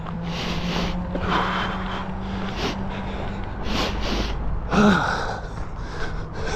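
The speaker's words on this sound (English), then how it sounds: "Breathe." Heavy, rhythmic breathing during an early-morning run in Japan, close-up gasps and exhales repeating about once a second with one sharper gasp partway through.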